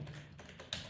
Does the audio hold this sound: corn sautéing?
no